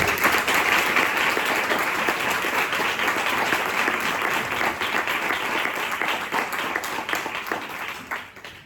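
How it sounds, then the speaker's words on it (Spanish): A large audience at an evening poetry debate applauds the poets Luna Miguel, Marta Jiménez Serrano and Carmen. The clapping is dense and sustained, loud and close, thinning slightly toward the end. "os pido un aplauso para Luna Miguel, para Marta Jiménez Serrano y para Carmen"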